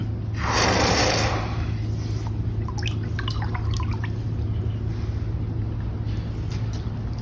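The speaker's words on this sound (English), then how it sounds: "Now let's quench this part." Hot forged iron for a Huntley gold-mining spoon is plunged into water in a blacksmith shop, giving a loud, brief hissing burst that fades into faint sizzles and drips over a steady low background hum.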